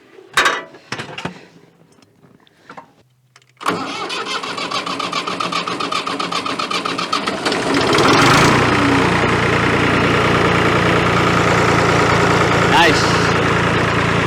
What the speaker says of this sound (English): Alright, let's see if we can crank it.